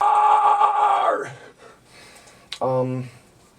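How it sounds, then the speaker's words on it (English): Metal vocalist warming up a harsh scream with wavering vibrato, a loud sustained strained tone that breaks off, followed after a pause by a shorter gasping vocal burst. "It's like scream vibrato."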